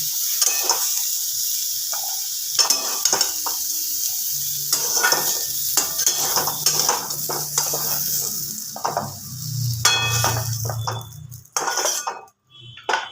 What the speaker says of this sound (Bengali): এইগুলো লাল হয়ে দেখুন ভাজা হয়ে গেছে